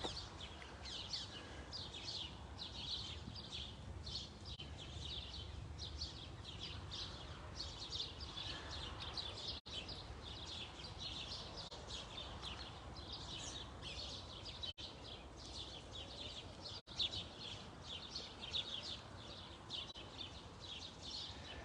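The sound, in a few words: small bird chirping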